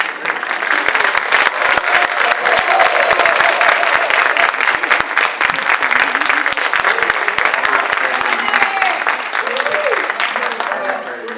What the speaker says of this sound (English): I think we need a round of applause for him.